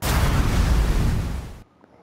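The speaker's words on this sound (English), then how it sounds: "Explosions." A cinematic explosion sound effect from the PS5 ShareFactory Studio library plays as one loud, rumbling boom that lasts about a second and a half before cutting off abruptly into near silence.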